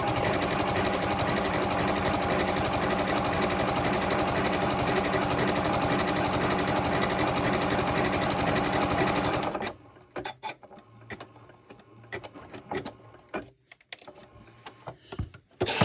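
A Janome M7 Continental sewing machine with an overcast foot stitches a seam in a steady, loud mechanical whir for about ten seconds, then stops, leaving quieter clicks and handling noises.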